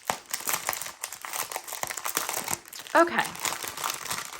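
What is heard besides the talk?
unwrapping plastic-wrapped canvas and tools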